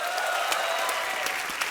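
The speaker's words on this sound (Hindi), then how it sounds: "जोरदार तालियां।" Brief burst of studio audience applause on a Hindi comedy talk show, a dense wash of clapping with sharp individual claps standing out, loud and steady.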